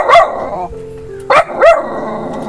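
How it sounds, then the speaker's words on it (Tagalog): A dog barks loudly and close by, three sharp barks, one at the start and two close together near the end, with a brief quiet whimpering tone in between. "Kasama si tatay na aso po."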